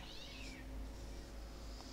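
A cat meows in the background during a Paladins online gaming session, a faint, drawn-out cry heard over a steady low hum with no talking.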